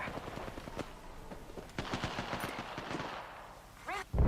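Rapid bursts of gunfire in a shooter video game, sharp repeated shots in quick rhythmic volleys, fairly loud and close, with a short electronic chirp near the end.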